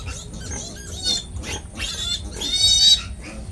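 A sow with newborn piglets: a close mix of high squeals and grunts from the piglets, repeated in short overlapping bursts over a low background rumble.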